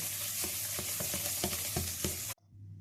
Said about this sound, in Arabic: هبدا بقى اقلب البيض مع السكر كويس قوي لحد ما يمتزجوا مع بعض